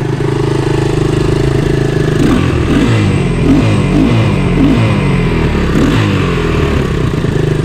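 A Honda ATC three-wheeler's engine runs steadily at close range, a loud, even idle with a mechanical clatter and slight fluctuations in its rhythm throughout.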